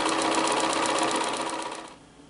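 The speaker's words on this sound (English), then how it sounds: "with that guide right up against the edge of my fabric, and I'm going to stitch all of the way down" A sewing machine stitches quilting fabric strips in a steady rapid whir that runs for about two seconds and then slows and stops.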